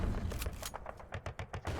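Artillery shelling in the WWII card game KARDS: a rapid run of sharp, booming impacts in quick succession, loud and close, with no talking.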